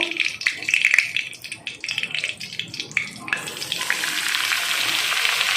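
Cumin seeds spluttering in hot oil for a palak dish: sharp, irregular crackles and pops for a few seconds, then a steady, smoother hiss.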